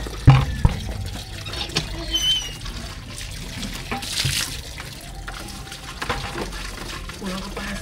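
Water poured out from a basin, splashing and trickling onto the ground nearby, with a sharp knock early on and scattered handling noises; voices are faintly heard at moments.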